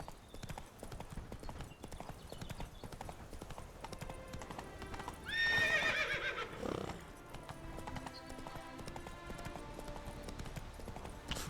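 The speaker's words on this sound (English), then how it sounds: "Whoa, there, Roach." A horse in the video game The Witcher 3 clip-clops along with steady hoofbeats, then whinnies loudly midway before the hooves continue at a moderate, even pace.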